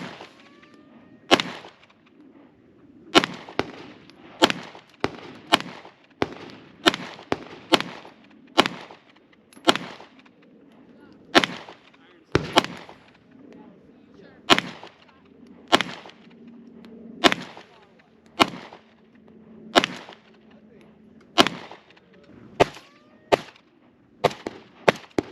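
Glock 17 9mm pistol fired at targets, a long series of sharp, loud shots, each followed by a short echoing tail, spaced about a second apart with occasional quicker pairs.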